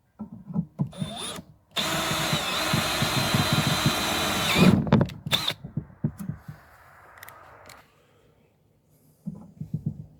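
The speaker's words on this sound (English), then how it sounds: "Go ahead and hit it with the center drill." A power drill with a center drill whines steadily for about three seconds during a Husqvarna LC 221a mower repair, followed by scattered knocks, clicks and metallic handling noises, then quiet with a few soft thumps.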